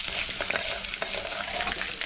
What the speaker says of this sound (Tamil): இதை நல்லா வதக்கணும், பச்சை வாசனை போகிற வரைக்கும்.